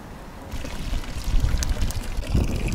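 An 18th-century stone city fountain in Mons, Belgium pours and splashes steadily from close by. The flow swells slightly partway through, with uneven gurgling bursts and no voices.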